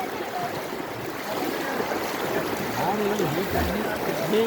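Floodwater rushing through flooded streets near a railway station, a steady broad roar of moving water at moderate level, with a voice speaking over it throughout.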